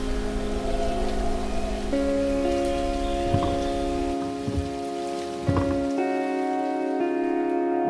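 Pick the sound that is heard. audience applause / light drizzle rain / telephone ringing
light drizzle rain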